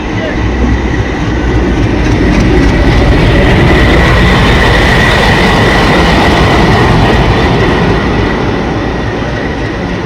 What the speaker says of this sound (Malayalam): അടിപൊളി ഡീസൽ ലോക്കോമോട്ടീവ് ആണല്ലോ ഇത്.